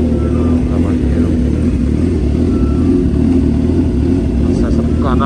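A Suzuki GSX-R 750 sport motorcycle runs with a steady, loud engine drone and rumble heard from the rider's position, with wind buffeting and a voice talking over it.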